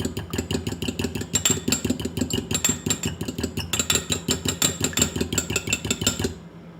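An egg is whisked in a measuring cup, giving quick, steady strokes that tap out an even rhythm for several seconds before stopping abruptly.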